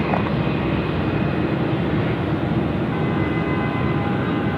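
An Airbus airliner landing at night on runway 34 left at Sydney Airport, heard as a steady, loud broadband roar that holds level throughout with no pauses.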